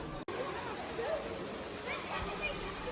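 Waterfalls pour into an indoor spa pool in Brașov, a steady broadband rush of falling water under a faint babble of voices around the pool.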